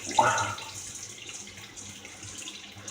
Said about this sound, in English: get my brush wet up here and start lathering up